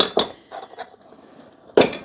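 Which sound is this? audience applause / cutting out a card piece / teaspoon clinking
teaspoon clinking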